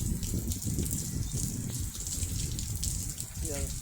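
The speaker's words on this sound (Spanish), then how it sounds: "La lluvia no deja de parar." Steady rain pours down outdoors near Acapulco, a dense, continuous patter with occasional heavier gushes, and a voice speaks faintly beneath it.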